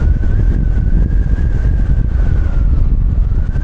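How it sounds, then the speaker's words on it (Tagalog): Heavy wind buffeting a microphone with a constant low roar during a Fortress 160 motorcycle ride, plus a faint steady tone from the moving motorcycle underneath, loud and unbroken throughout. "lakas ng hangin"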